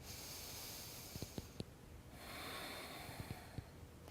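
During a yoga exercise, slow, deep nasal breaths sound softly up close, a long airy inhale and exhale separated by a few faint clicks and sniffs, quiet and without speech.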